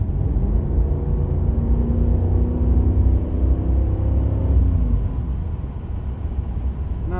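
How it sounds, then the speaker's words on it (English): A 1992 RS Camaro's engine pulls on a test drive: a deep, steady rumble with rising revs heard from inside the car that eases off near the end. "Give it a little bit of gas here."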